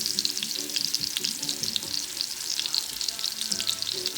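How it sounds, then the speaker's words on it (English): Oxtail meat browns in hot oil on a stovetop, a busy crackling sizzle with rapid pops that holds steady and fairly close throughout. "You're actually just browning the oxtail meat"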